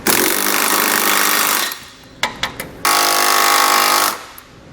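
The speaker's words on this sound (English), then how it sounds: "We can now go back and tighten down all of our hardware with a 19mm socket." A power impact tool drives trailer hitch bolts on a 2017 Audi Q3 through a 19mm socket during a Curt receiver install, loud rattling hammering runs broken by a few short sharp bursts before a final sustained run.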